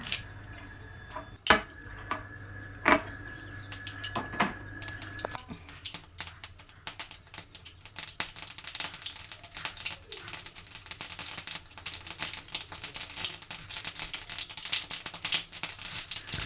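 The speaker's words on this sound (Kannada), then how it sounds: "ಸಾಸಿವೆ ಒಂದು ಸ್ವಲ್ಪ ಚಿಟಪಟ ಆದಮೇಲೆ" Mustard seeds crackle and pop in hot oil in a pan, a tempering for okra and potato gravy, giving sharp scattered pops that are sparse at first and then a dense, steady crackle.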